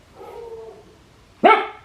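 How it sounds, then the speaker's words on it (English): A neighbor's dog lets out a faint, distant whine or yelp, then one sharp, louder bark near the end, with quiet between. "The neighbor dog has been barking like literally all day today."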